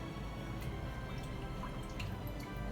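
Sugar being stirred into warm water for yeast dinner-roll dough gives a soft, steady liquid swishing with faint drips, quiet and continuous throughout.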